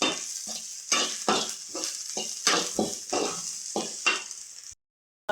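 Ingredients with green chilies sizzle loudly in a hot pan for village-style egg fried rice, with a utensil scraping and stirring in quick repeated strokes before the sound abruptly stops.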